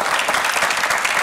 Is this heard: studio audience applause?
yes